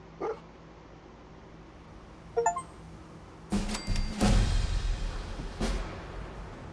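Dogmeat, the dog in the Fallout 4 video game, barks in a few short separate bursts followed by a longer cluster of barks and yips, fairly close, with no talking.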